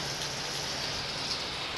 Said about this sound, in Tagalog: Dahil sa panahon na sobrang malakas ang ulan.